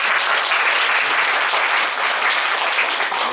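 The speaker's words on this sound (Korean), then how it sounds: "우리 박수 한번 할까요?" Steady applause from a church congregation welcoming visiting guests, dense and even clapping filling the whole stretch at close range without any speech.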